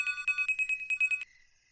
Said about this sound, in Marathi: एवढ्या रात्री कोणाचा फोन आलाय?